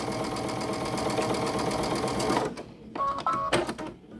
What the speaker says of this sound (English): let me sew this down